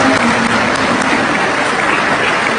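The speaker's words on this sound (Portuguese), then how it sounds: "Aplauda ela, gente." Continuous applause from a church congregation in Brazil, a dense steady wash of many hands clapping for a woman of prayer, sustained and fairly loud throughout with no voices standing out.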